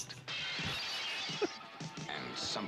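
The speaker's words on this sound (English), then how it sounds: "A lot of breaking glass." Glass smashes and shatters in a movie trailer, a loud crash with bright scattering debris followed by further impacts, layered over dramatic music and effects.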